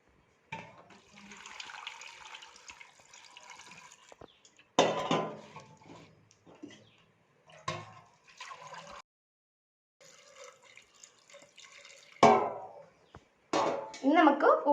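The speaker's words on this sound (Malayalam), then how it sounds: "നമുക്ക് ഇത് മുങ്ങിക്കിടക്കുന്ന രീതിയിലാണ് വെള്ളം ഒഴിക്കേണ്ടത് കേട്ടോ" Water pours into a pressure cooker over tapioca pieces in a home kitchen, coming in several splashy bursts with pauses between, alongside clinks of pots and utensils.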